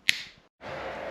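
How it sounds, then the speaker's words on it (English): A single sharp finger snap rings out close and loud at the start, followed by a brief hush and then steady outdoor wind noise. "I'm gonna snap my fingers and it's gonna be time for fitting"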